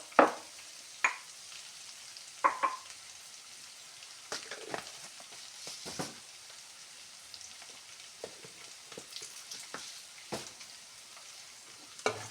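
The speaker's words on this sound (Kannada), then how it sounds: "ಹಾಗೆ ಸಾಸಿವೆ ಕಾಳು. ಬೆಳ್ಳುಳ್ಳಿ ಫ್ರೈ ಆಗಬೇಕು." Mustard seeds and garlic frying in a pan for a green mango gojju, a low steady sizzle broken by sharp crackles and pops scattered through, close and moderately quiet with no talking.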